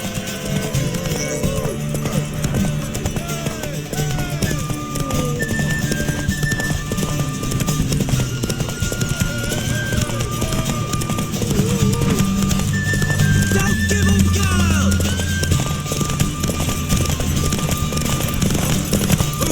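Hooves clip-clop rapidly as horses gallop in a horse race in the video game The Witcher 3: Wild Hunt, with shifting tones and effects layered over the continuous rhythm.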